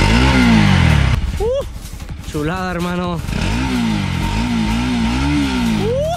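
A 2021 Bajaj Pulsar NS 200 motorcycle exhaust blips and revs up close, rising in sharp bursts between a throbbing idle, loud and near, with someone briefly talking over it.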